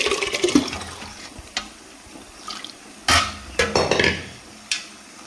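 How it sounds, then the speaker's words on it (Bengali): Boiled chana dal being poured into a cooking pot, with several close, splashy watery pours and wet slaps in separate bursts against a quiet kitchen background. "আমার ছোলার ডালটা সিদ্ধ হয়ে গেছে তো এর চেয়ে আর বেশি সিদ্ধ করবো না এটাকে আমি ঢেলে নেব হাঁড়িতে"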